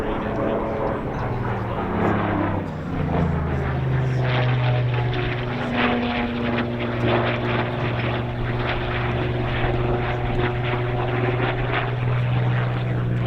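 A World War II propeller aircraft engine drones loudly and steadily nearby, its pitch sliding down then holding a throaty rumble throughout.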